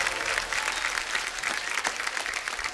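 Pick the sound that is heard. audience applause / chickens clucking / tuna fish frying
audience applause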